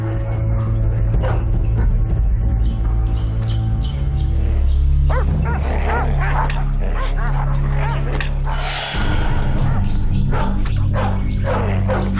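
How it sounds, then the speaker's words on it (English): Hunting dogs bark and yelp loudly and repeatedly over a dense, continuous rumble and a swelling score, the barks scattered through the stretch without a steady rhythm. "Hunting dogs. They smell her scent."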